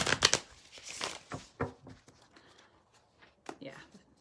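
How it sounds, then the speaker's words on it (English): A deck of reading cards is shuffled in a few quick riffling bursts near the start, followed by sparser soft card handling, with a voice talking through and between. "We just give it another little shuffle."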